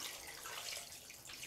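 A cup of water poured into a cooker of chicken for biryani, a faint, brief splashing trickle with no talking.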